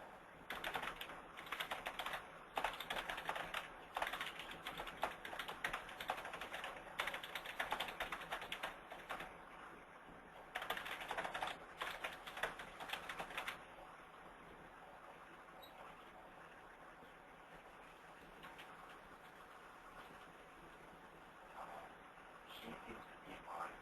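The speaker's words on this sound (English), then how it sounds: "I'll type the message here." Rapid clattering keystrokes on a computer keyboard while a message is typed during a teleconference, dense bursts for about fourteen seconds, then quieter scattered taps, close and fairly faint.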